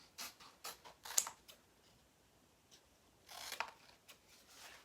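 Quiet scissor snips trimming excess material off a chalk-art stencil pattern, a few short crisp cuts in irregular bursts with brief pauses between them.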